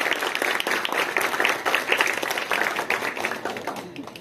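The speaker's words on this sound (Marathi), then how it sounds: "एकदा जोरदार टाळ्या वाजवा बघू" Children in the audience of a school science one-act play competition clap loudly and energetically, a dense burst of hand claps that peaks in the middle and gradually fades toward the end.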